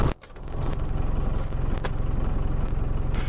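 An Iveco 35-8 diesel engine idles with no throttle applied, a steady low rhythmic chugging that settles in after a brief clatter at the start, close and continuous.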